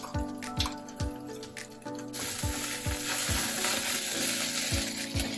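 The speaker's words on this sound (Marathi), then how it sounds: "हे मसाला आपल्याला व्यवस्थित मिक्स करायचा आणि भेंडी पूर्ण कोरडी होईपर्यंत परतून घ्यायची." Okra stir-frying in a pan with ground peanut and green chilli masala and a little salt: a steady close sizzle runs throughout, punctuated by repeated rhythmic scrapes and knocks of a spatula tossing the mixture, about one every second, with no talking.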